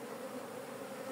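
Honeybees droning steadily inside an opened hive that may have swarmed, a continuous close buzz with no voices.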